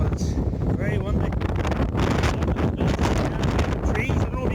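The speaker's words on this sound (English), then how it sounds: "it's very windy." Strong wind buffeting a microphone beside a tent at a wild camp on a mountain in Ireland, a loud continuous roar with gusty rumbling.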